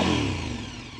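A KTM 1290 Super Adventure S motorcycle with an aftermarket exhaust and intake kit gives a close, loud engine note that eases and fades slightly over about a second.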